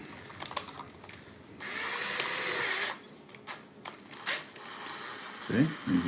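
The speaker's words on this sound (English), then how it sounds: "Take this and hook it to your drill." An electric drill whirs in a steady burst for about a second and a half, framed by clicks, taps and handling noises.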